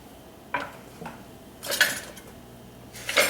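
A spoon stirs pinto beans with chopped onion and garlic in a pot, giving a few separate metallic scrapes and clinks at irregular intervals against near-quiet, with no talking.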